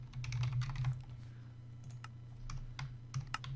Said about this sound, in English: then I'll just type unlooted